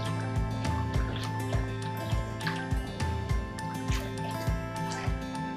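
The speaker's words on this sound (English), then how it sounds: "just keep whisking until you've poured all the milk and cream in." Custard being whisked in a bowl while milk and cream are poured in, a close, steady run of rhythmic wet clicks and splashes with no talking.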